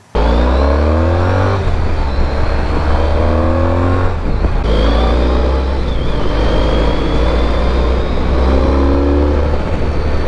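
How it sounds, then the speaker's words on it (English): A Honda ST1300 Pan European motorcycle on a ride, its engine droning loud and steady throughout with rising and falling revs as it pulls through the gears, heavy wind rush layered over the motor. "Enough talk, let's go for a ride on the ST1300."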